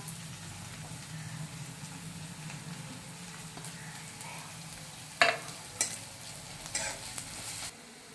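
Green chillies and chopped onion fry in a pan for kanda batata poha, a steady close sizzle with a few sharp scraping stirs toward the end before it drops away.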